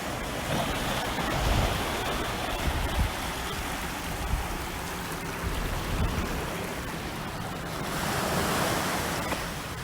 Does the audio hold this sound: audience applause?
no